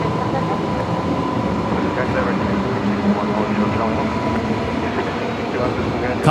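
A Jetstar jet departs Brisbane Airport at night, bound for Launceston, heard as a steady, broad, loud roar throughout with a faint tonal whine. Voices murmur faintly underneath.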